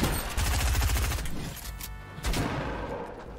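Shotgun fire in the video game Fortnite, heard as loud blasts and rapid bursts layered over dense, continuous game noise, with a fresh heavy shot partway through.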